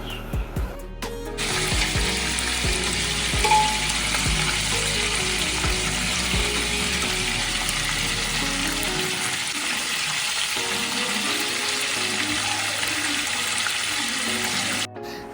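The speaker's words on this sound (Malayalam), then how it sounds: "ഇനി നമുക്ക് ഒരു പാൻ വെച്ചിട്ട് അതിൽ കുറച്ച് സൺഫ്ലവർ ഓയിൽ ഒഴിച്ച് ഒന്ന് ഫ്രൈ" Chicken pieces fry in sunflower oil in a pan, a loud, continuous broadband sizzle that holds steady from start to finish, with a few dull knocks near the beginning and no talking.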